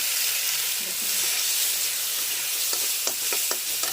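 Onions and spices frying in hot oil, a steady close sizzle with a few light stirring clicks and taps toward the end.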